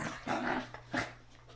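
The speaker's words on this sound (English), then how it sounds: "ignore the dogs fighting." Dogs fighting indoors near a bed in the morning, with two short bursts of snarling growls and a brief yelp, fairly quiet and close by.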